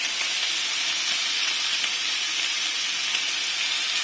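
Chicken pieces searing in a very hot, dry pan with no oil give off a steady, loud sizzling hiss that runs unbroken from start to finish, with no voices.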